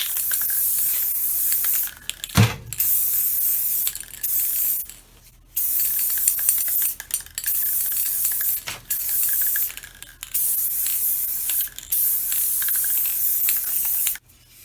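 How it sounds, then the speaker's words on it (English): A light coat of acrylic sealer is sprayed from an aerosol can over a wooden wagon wheel on an antique horse tricycle, loud close hissing bursts of varying length separated by short pauses and faint clicks of the nozzle. "we're going to seal in the die with just a light coat of acrylic."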